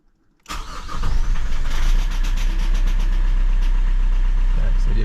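A car engine cranks and catches on the first try at close range, then settles into a steady, loud idle with a deep low rumble that continues to the end.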